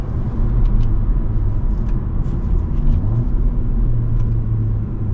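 A 2025 Acura Integra A-Spec Tech with a 6-speed manual in sport mode, its engine droning steadily and loud through a downshift, a continuous low rumble with slight rising surges and no voices.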